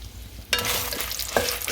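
Dried red chillies hitting hot oil in a pot for a spice powder, bursting into a loud sudden sizzle after a quiet start, with a second flare of crackling near the end, no voices.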